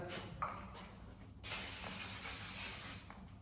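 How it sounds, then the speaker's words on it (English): A short, steady hiss of a glass cleaner spray bottle on a wood-burning stove's glass door sounds up close for about a second and a half, preceded by a faint click. "Quick spray of that"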